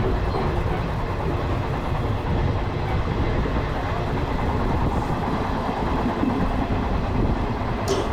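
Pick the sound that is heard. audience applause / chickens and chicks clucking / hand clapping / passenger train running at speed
passenger train running at speed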